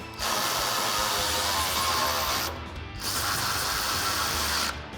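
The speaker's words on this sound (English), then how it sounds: "Now we can tighten down our 4 18mm bolts for the side mounts on our winch plate. So we'll use our 18mm socket on our ratchet for that." A ratchet with an 18mm socket tightens winch plate bolts on a full-width front bumper of a Ford Bronco, a continuous close clicking whir in two long bursts with a short pause between.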